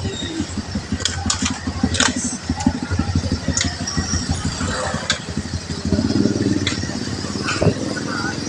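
Low, steady rumble of motorcycle engines idling nearby on a flooded street, a continuous chugging drone with some background chatter and street noise.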